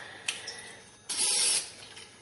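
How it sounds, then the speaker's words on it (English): Cooking oil is sprayed onto hands while making whole grain tortilla dough, a short faint puff followed by one louder, sustained hissing spray burst up close, then quiet kitchen handling. "spray your hands just a little bit so that you can work with them and start weighing them"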